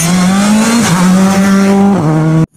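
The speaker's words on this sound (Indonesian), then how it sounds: "Ada mobil balap." Toy racing car giving off a steady, loud synthetic engine whine that shifts pitch a couple of times, running continuously for over two seconds before cutting off abruptly.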